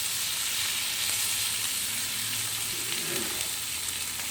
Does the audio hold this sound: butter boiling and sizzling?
yes